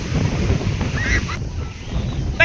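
Cold wind blows at Kite Beach in Dubai, rumbling and buffeting against the microphone as a steady, moderately loud low roar with faint surf behind it.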